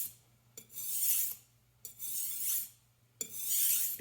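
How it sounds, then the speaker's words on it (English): A knife blade drawn across a whetstone at a steady angle, three long gritty rasping strokes at an even pace, close and fairly quiet over a low steady hum, no talking. "run the blade while maintaining even pressure and a static angle across the surface of the stone"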